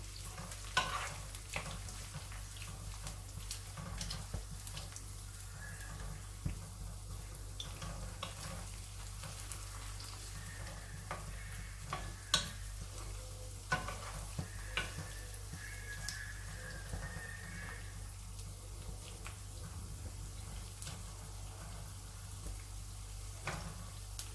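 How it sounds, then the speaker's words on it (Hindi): Potatoes fry in a pan over a medium-high gas flame, giving a steady low sizzle with intermittent stirring clicks and scrapes throughout, moderately close and with no talking. "अब मैं आलू को भी फ्राई कर लूँगी।"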